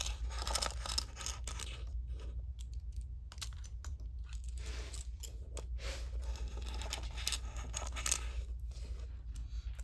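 Small pieces rattle and clatter as they are swept off a division board on carpet, a continuous close, busy clicking and scraping over a steady low hum, with no speech.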